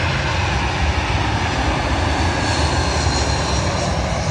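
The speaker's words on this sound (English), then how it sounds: "Arriving in now is another British Airways plane" A British Airways airliner comes in to land on runway 27L at London Heathrow, its engines a loud steady roar throughout with no talking.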